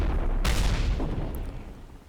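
A single sharp gunshot or cannon blast in Combat Mission Battle for Normandy, one loud crack over low battlefield rumble that decays quickly, with a fainter distant report after.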